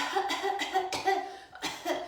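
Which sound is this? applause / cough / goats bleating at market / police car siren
cough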